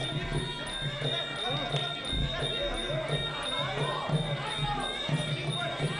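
Crowd at a Muay Thai bout cheering in a steady rhythmic pulse, a continuous roar mixed with chanting and beats, with live commentary talking over it throughout.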